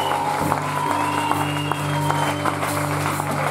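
A church congregation applauds and acclaims the Lord with sustained clapping and scattered cheers over a steady hum, loud and continuous throughout.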